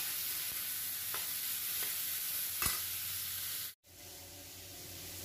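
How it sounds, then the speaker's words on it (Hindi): Cabbage and other vegetables stir-frying in a pan for a quick pasta dish, a steady sizzle with a few scraping stirs, then a brief drop to near silence before the frying hiss resumes. "अब हम सब्जियों को थोड़ा भून लेंगे जिससे उसका कच्चापन निकल जाए"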